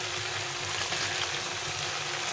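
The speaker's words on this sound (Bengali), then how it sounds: "মশলা থেকে তেল ছেড়ে দিয়েছে, দেবো টমেটোটা" Tomato tipped into a spice paste frying in oil for a fish-head curry, setting off a steady, close, dense sizzle and crackle that runs unbroken with no voices.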